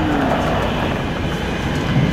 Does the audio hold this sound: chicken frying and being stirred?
no